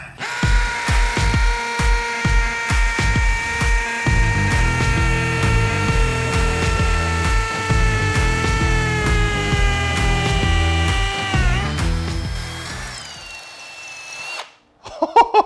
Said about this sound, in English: We're gonna start off with this 1/4-inch masonry bit in the M18.